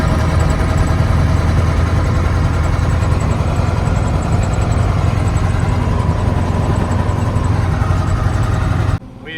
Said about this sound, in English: we are bringing the tractor and our grain cart